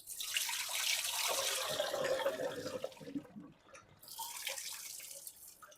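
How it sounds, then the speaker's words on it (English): Kitchen tap water running steadily over vegetables being washed for a salmon, rice and vegetable dinner, a close, continuous splashing rush with a brief dip partway, no talk. "Washing these veggies real good"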